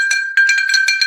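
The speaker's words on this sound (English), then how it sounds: "But it is a beautiful hand-painted ceramic bell. It is unglazed." A hand-painted, unglazed ceramic bell with a large clapper rings in several loud, bright clangs in quick succession, close by, each strike leaving a steady ringing tone with no voices.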